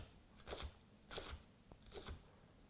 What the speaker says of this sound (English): So we just want to chop our onion weed through.